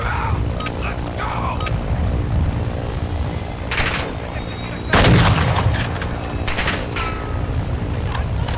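Rapid video game gunfire crackles in repeated volleys, with sharper heavy bursts standing out, loud and close, broken by short lulls that sound like a firefight around an extraction point.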